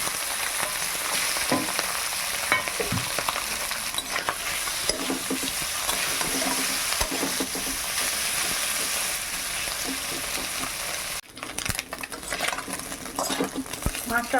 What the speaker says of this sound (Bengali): বাকিগুলো এরকমভাবে ভেজে নেই